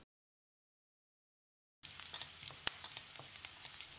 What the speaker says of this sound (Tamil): வெங்காயத்தை லேசாக செவக்கிற அளவுக்கு வதக்கினா மட்டும் போதும்